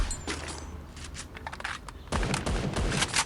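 Gunfire in the Free Fire video game: repeated rapid bursts of shots crackle throughout, sparser at first and then a denser, louder volley in the second half, with no talking.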